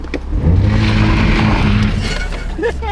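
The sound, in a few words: Toyota Supra engine with launch control engaged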